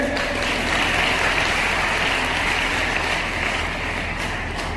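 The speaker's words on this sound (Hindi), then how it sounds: "जोरदार ताली बजाकर" Loud, sustained applause from a large crowd at a Ladli Laxmi festival event, steady and dense clapping throughout with no pauses.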